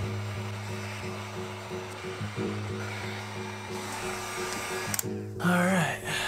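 A heat gun blows a continuous hum while it warms glue around the perimeter of a grandfather clock panel so the panel can be pried off. The tone is fairly quiet and steady, with a few small knocks and a brief shift near the end.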